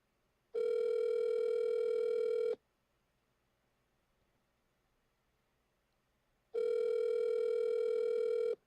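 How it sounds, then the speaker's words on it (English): Telephone ringback tone heard while placing a call, two long steady electronic tones of about two seconds each separated by roughly four seconds of near silence, clear and alone. "Can you guys hear it ringing?"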